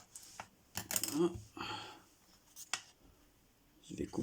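Scissors snipping small corners of fabric, a few short quiet crisp cuts close by, with someone talking softly in French between them.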